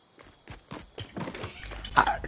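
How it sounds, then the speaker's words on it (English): Footsteps, a series of soft, faint thuds in an uneven rhythm that grows slightly louder toward the end. "I did hear footsteps"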